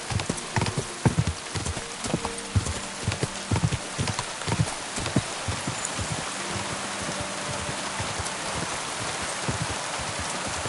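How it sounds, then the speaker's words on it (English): A horse's hooves clip-clop at a steady gait in the video game Kingdom Come 2, with rhythmic hoofbeats under a constant hiss of rain. "Easy, good horse."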